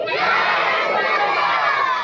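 A large crowd at a Muharram religious gathering in Kurla West, Mumbai, shouts a religious slogan together in response, a loud, dense wall of massed voices that holds steady without a break.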